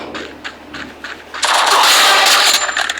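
Video game gunfire lands a headshot in a ranked match: a few scattered shots, then a loud sustained automatic burst near the end.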